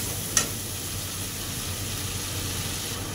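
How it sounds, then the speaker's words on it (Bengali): Spice paste with a splash of water cooks in oil, giving a faint, even hiss of frying throughout, with a single brief click near the start. "সামান্য একটু জল দিয়ে মশলাটা তেলের সঙ্গে ভালো করে একটু কষিয়ে নেব"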